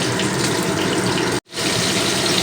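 Mustard oil poured into a kadai gives a steady, full hiss of flowing liquid, close and fairly loud, with one brief break partway through.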